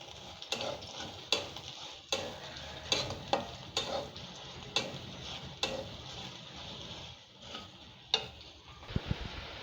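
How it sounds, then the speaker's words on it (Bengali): Fried onions with poppy seeds are stirred in a pan for a gourd-leaf mash, with a low sizzle under regular scraping, clicking spoon strokes about once a second, close and fairly quiet. "পোস্তটা দিয়ে ভালো করে নেড়ে নিয়েছি।"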